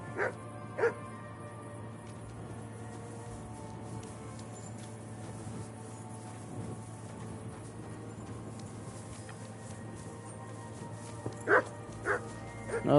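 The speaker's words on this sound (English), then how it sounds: "Shut up, Mutt" Video game dog barking and yipping in Kingdom Come Deliverance 2, a few short sharp barks near the start and a cluster near the end over a steady low hum, with someone talking.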